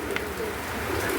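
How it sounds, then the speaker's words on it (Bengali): Pigeons, including racing males kept in a loft, give soft, low cooing close by in a short burst over a faint background hum. "এই দেখেন দুটো রেসার নর আছে"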